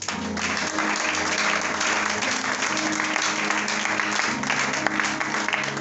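A church congregation claps and cheers for the Lord, dense sustained applause from a large crowd filling the room at a steady loud level throughout.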